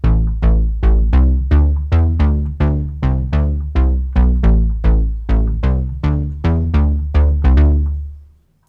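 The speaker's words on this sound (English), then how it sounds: "even with a bass, that the reverb and delay can bring those sounds to life" A deep synth bass from the TAL-Pha plays a steady run of repeated notes, each with a soft decay and a reverb and delay tail, ending in a lingering fade.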